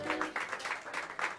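Warm audience applause at a New York jazz club set, the clapping steady and close with a few louder swells across a short stretch, no voices over it.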